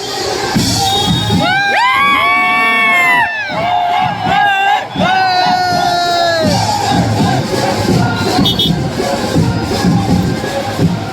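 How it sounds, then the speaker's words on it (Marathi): A dense crowd cheers and shouts at a Ganesh idol arrival procession in Mumbai, with whoops and children yelling. Sharp bangs come through the noise, and a band plays nearby throughout. "हे बघा फुल जल्लोष फुल गर्दी फुल जल्लोष"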